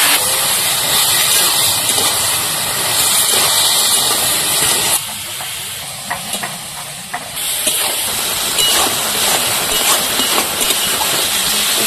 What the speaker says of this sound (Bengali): ভেজে রাখা চিংড়ি মাছগুলো দিয়ে দেবো। এর একসাথে ভালো করে কষিয়ে দেবো।